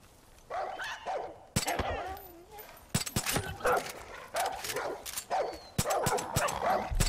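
A dog in the game Far Cry 5 yips and whimpers in short, irregular bursts amid other game noises and thumps.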